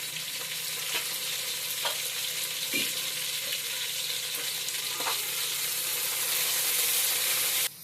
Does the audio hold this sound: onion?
yes